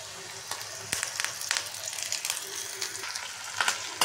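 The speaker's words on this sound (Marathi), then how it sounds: "कढीपत्ता पण छान फ्राय झाला आहे।" Curry leaves fry in hot oil with potato and chopped green chilli for a sago khichdi, giving a steady close sizzle with bursts of spattering and a few clinks of stirring.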